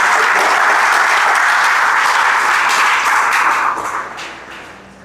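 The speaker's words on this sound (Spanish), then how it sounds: "Denle un aplauso al Señor." A church congregation at a worship service applauds loudly and steadily, a dense wash of many hands clapping that holds for several seconds before tapering off toward the end, with no talking over it.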